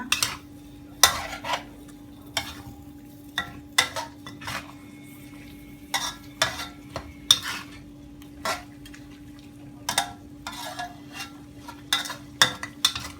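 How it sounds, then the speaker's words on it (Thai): Metal spatula scrapes and clanks rhythmically against a pan as stink beans are stir-fried with fresh shrimp and shrimp paste, with repeated sharp strokes over a steady low hum. "เราก็ผัดต่อไปได้เลยนะ"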